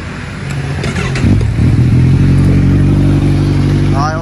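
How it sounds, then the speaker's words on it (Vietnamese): A motorcycle engine idles loudly and steadily up close, a rough mechanical rumble that swells slightly as it revs, heard alone without talk. "để nổ máy cho anh em nghe thử"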